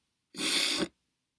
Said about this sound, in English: I feel like I might need to sneeze again.